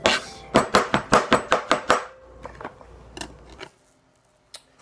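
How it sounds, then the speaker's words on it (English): White button mushrooms sliced with a knife on a cutting board, a quick run of about eight sharp rhythmic knife taps, then a few slower scattered clicks and one last tap after a pause, close and clear with no talking. "let's slice some white button mushrooms"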